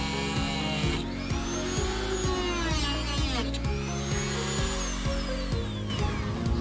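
A Dremel rotary tool whines at high speed while cutting a plastic dash piece in a Jeep Wrangler TJ, with pitch sweeps as the load changes over a steady, pulsing mechanical background.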